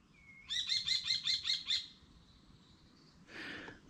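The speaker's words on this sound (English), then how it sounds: "There's a bird up there" A small bird in woodland gives a quick rapid series of about seven bright chirps, followed by a thin trailing note and a short harsher call, close and clear over a quiet background.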